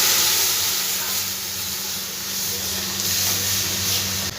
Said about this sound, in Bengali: এবার এর মধ্যে আমি দিয়ে দেব সেদ্ধ করে রাখা ডালটা সম্পূর্ণ।